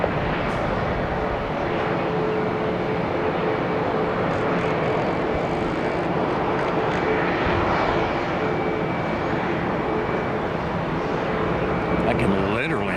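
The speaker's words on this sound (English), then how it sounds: "Air Mexico 1741 Boeing Max 8." Aeromexico Boeing 737 MAX 8 jet engines roar steadily at a distance near an airport, a continuous broad rumble over about thirteen seconds, with someone talking over it.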